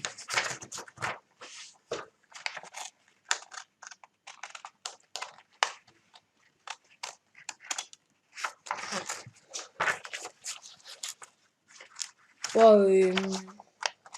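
Scissors snip through paper while a rosette is cut out, a long series of short, crisp clicks and cuts in uneven bursts, close and fairly quiet, with a brief voice near the end.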